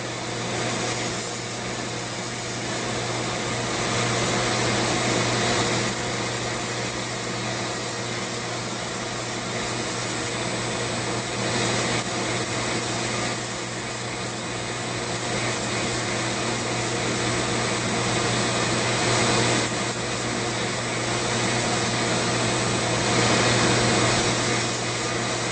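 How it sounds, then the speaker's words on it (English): A Dremel sander with 80 grit paper carves wood for a friendship staff, giving a steady high-pitched motor whine with rough, rasping abrasion that swells and eases as pressure changes, close and alone. "This sander I'm using is an 80 grit, and it's a DREMEL"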